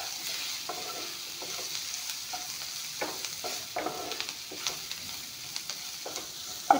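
Spice powder being stir-fried in a pan, with steady soft sizzling and repeated scraping and stirring strokes throughout, fairly close and without any voices.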